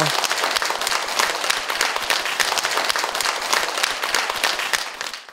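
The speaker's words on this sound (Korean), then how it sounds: "큰 박수 부탁드립니다." Dense, enthusiastic applause from a large audience at a Buddhist lecture closing ceremony fills the whole stretch, steady and loud without letting up.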